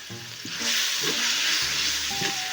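Meat goes into a hot pan and sizzles loudly, the hiss swelling right after it lands and holding steady, with faint tones and clatter underneath.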